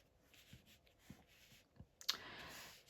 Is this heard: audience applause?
no